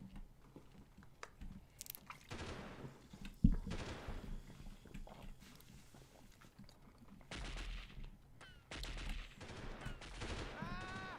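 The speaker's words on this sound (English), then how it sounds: "there's a guy over here shooting at us" Enemy soldier gunfire in Delta Force (1998) sounds as scattered sharp shots and short bursts, fairly faint, among quiet game ambience with occasional speech.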